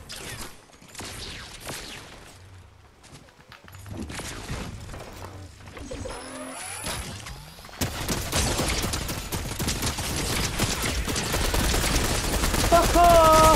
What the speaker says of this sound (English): the turret might be shooting them